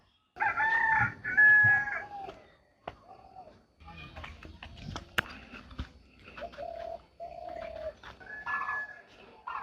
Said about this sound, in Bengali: দেখেন কি সুন্দর পাখির শব্দ